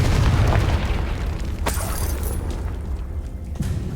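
Explosive spells such as Bombarda and Confringo detonate in Hogwarts Legacy, a loud booming blast followed by further bursts and crackling debris in a busy fight.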